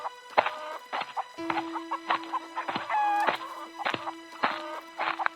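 A rooster clucks repeatedly in short, throaty bursts, close and fairly loud, with a longer squawk partway through and a steady hum underneath.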